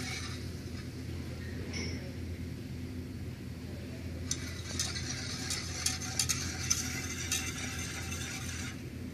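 Sugar syrup of about 200 grams of sugar dissolved in water bubbling in a pot, a soft steady simmering hiss with faint crackles, growing busier with sharper pops in the second half.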